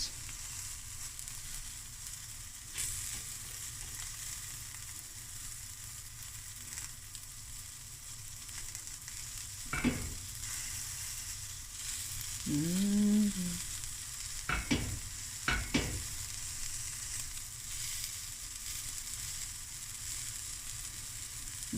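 A quesadilla crisping in a pan after being flipped gives a faint, steady sizzle, with a few brief scrapes and clatters of a spatula partway through and no voices.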